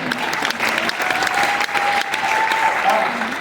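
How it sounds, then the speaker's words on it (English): A cruise ship audience on Liberty of the Seas gives a dense, steady round of applause at a love-and-marriage game show, loud and sustained throughout, with a voice faintly mixed in. "give these guys a nice round of applause"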